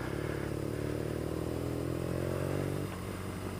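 A BMW R1200GS Adventure motorcycle being ridden in the Santa Cruz Mountains, its engine droning steadily and fairly loud, then easing off near the end as the rider slows.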